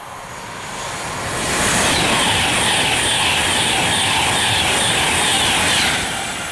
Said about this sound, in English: Next train to go through is a Virgin train service bound for London Euston